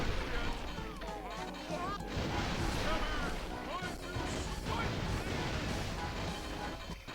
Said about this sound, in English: Smashing robots is a good cardiovascular workout.